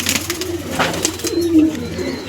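A pigeon coos close by in a loft, low rolling throaty calls repeating over about two seconds, loud and clear with no talk over them.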